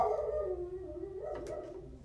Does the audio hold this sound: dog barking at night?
yes